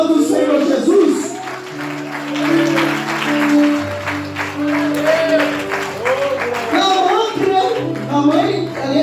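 Church congregation applauding during a vigil service, sustained clapping that swells and dips in waves, with organ or keyboard chords and voices underneath.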